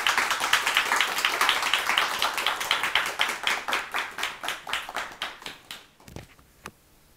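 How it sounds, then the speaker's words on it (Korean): Audience at a university lecture hall breaks into steady applause welcoming a writer to the stage, dense rapid clapping that holds loud for several seconds before thinning out to a few last scattered claps and silence. "큰 박수로 맞춰주세요."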